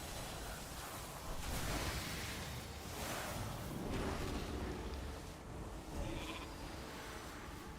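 Sheep bleating from a polymorph spell in World of Warcraft PvP, heard amid dense, steady game noise and combat effects with no clear talk.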